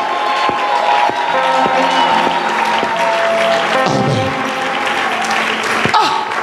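Church congregation clapping and calling out in acclaim, a steady loud wash of applause and cheering with voices mixed in throughout.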